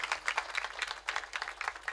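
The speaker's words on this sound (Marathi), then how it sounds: "या परिवारासाठी एकदा जोरदार टाळ्या वाजवा." A gathering at a Marathi kirtan program claps for the host family, producing a faint, brisk burst of rhythmic hand clapping heard from a distance.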